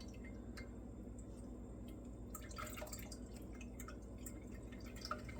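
Mulberry juice dripping through a colander, faint soft drips and small wet squishes at close range over a steady low background hum.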